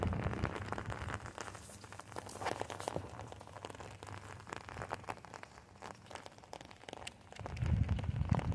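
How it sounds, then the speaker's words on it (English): Light rain falls steadily on a wet spring morning walk with a dog, giving a soft continuous patter and crackle close by, with a heavier rustle near the end. "welcome to a wet and rainy edition of Walk with Regis."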